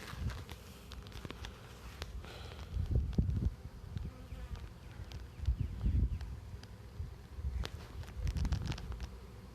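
A honey bee swarm buzzes densely around a hive super, a steady close hum that swells in loudness every few seconds, with scattered clicks and knocks throughout.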